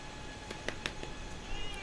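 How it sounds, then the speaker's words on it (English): A house cat meows and complains in the background, a few short, faint calls in quick succession over a low hum. "You can hear the cat complaining in the background."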